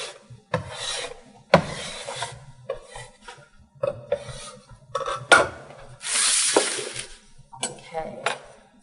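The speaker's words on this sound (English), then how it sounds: "I can also use it to clean my surface" A bench scraper rubs and rasps across a work surface while baked treats are prepared, giving several close scraping strokes in short bursts, with one longer sustained scrape near the end.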